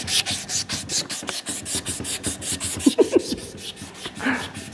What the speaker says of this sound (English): You sand that shit. Make that knife handle